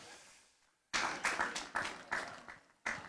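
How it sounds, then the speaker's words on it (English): Audience applause at a Tortola Pier Park tenth anniversary celebration for a school group, arriving as a sudden outburst of close claps after a near-silent pause, coming in repeated swelling bursts. "Another round of applause, please, for Cedar School International."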